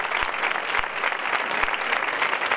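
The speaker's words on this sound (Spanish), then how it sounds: "ahora sí que viene un fuerte aplauso" Steady applause from a crowd at a fair coronation ceremony for a festival queen and her ladies in Facinas, dense clapping throughout, with a few low thumps.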